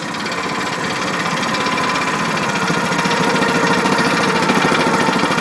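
An engine hums loudly and steadily as the steering wheel is turned to full lock, its tone growing slightly heavier under load, with a fast, even mechanical chatter and no talking.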